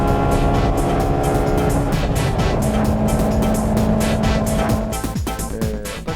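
A 1998 Honda Integra Type R overtakes on a racing circuit. The engine screams loudly from inside the car, pitch climbing through the gears with quick shifts before easing off near the end.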